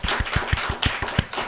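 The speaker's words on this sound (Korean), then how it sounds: "입학 축하한다고 박수 한번 이렇게 축하합니다." A church congregation claps together during a Sunday worship service, about nine distinct, evenly spaced claps in a quick rhythm, close and fairly loud, with no talking.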